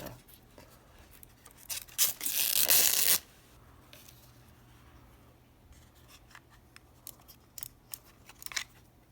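Protective film being peeled off the packaging of a Razer Lancehead wireless mouse, a loud tearing crackle lasting about a second, then softer scattered rustles and handling clicks nearby, no talking.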